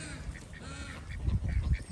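White ducks in a pen at a poultry breeding farm give faint, repeated quacks at a distance, over low rumbling background noise.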